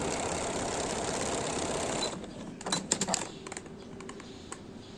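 Sewing machine stitching the side seam of a newborn baby shirt, starting at the sleeve, a steady whirring run for two seconds that gives way to quieter intermittent clicks and taps close by.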